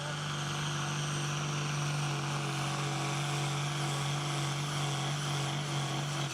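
A pulling tractor's engine holds steady at its RPM limit under the load of the sled at a club tractor pull, a constant loud droning roar with a strong low hum heard from a distance, no talking.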